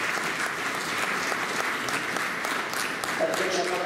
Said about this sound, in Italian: Facciamo un applauso veramente grande.